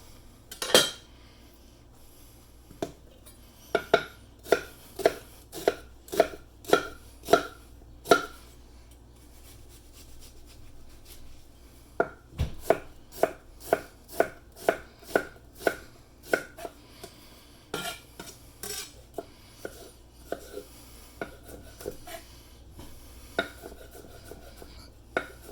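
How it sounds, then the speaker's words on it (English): Chef's knife dicing an onion on a cutting board, rapid series of crisp taps on the board in bursts with short pauses, close and clear with no talk. "Now, let's see this a little bit more full speed"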